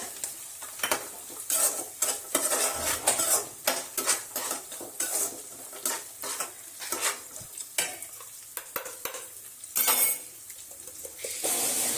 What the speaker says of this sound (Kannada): ಹಾಕಿ ಚಂದಗೆ ಮಿಕ್ಸ್ ಮಾಡ್ಬೇಕ.